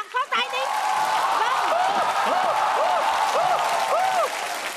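A studio audience at a Vietnamese TV talent show applauds in a steady, full patter of clapping, with a voice speaking over it throughout.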